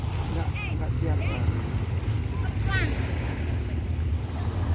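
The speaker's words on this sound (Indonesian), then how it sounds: "Suasana sore ini di pantai Watu Dodo." Surf rolling onto the beach at Watu Dodol, Banyuwangi, on an afternoon, a steady broad wash of waves with wind buffeting the microphone and brief faint voices over it.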